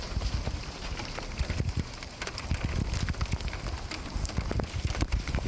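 Hail falls outdoors in Manitoba during a fishing trip, a dense, continuous pattering of hard little impacts, close and fairly loud, with no voices.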